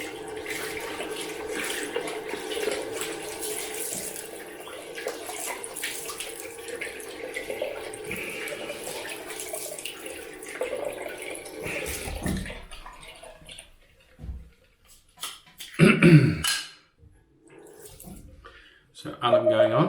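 Cold water runs steadily from a bathroom tap for about twelve seconds, a continuous close splashing rush, then stops, leaving brief quieter water and handling sounds while someone talks.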